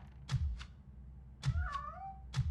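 A cat in a stealth video game meows once with a drawn-out, wavering cry, while sharp knocks or footsteps thump at regular intervals around it.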